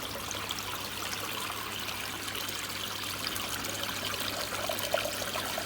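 Steady trickling water from a koi pond filter outlet pours continuously into a glass, a soft even stream with no voices, fairly close.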